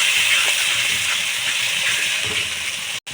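Spices and chili powder frying in a pan for Bengali-style chicken curry give a steady, loud, close hiss with faint scraping, broken by a brief dropout near the end.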